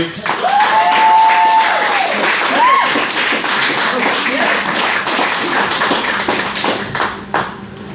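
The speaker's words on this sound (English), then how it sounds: "thank you for applauding long enough for me to actually get up here" A comedy club crowd at Rocket Shop Cafe claps and cheers loudly as a comedian walks on, sustained dense applause with a voice calling out briefly over it before it thins toward the end.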